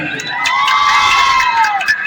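A crowd at a film promotion event in Itahari claps and cheers loudly for a couple of seconds, with whoops and shouts mixed into the dense, close roar.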